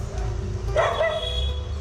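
A stray dog barks once, a short yelping bark in a street setting, heard against steady low background rumble.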